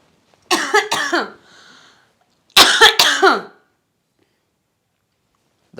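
A person coughs in two hard, close bursts of several harsh hacks each, separated by a pause with a faint wheezy breath in a quiet room.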